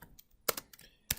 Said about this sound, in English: I'm going to type in sine x squared